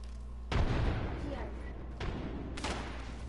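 A frag grenade explodes in Rust with a heavy booming blast and a long rumbling tail, then two more thudding bursts follow.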